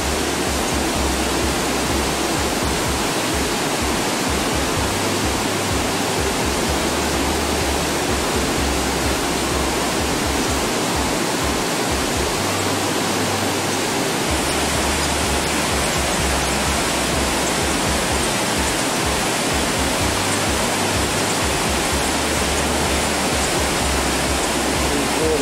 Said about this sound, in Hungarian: Szűkül a völgy, növekszik a víz hangja.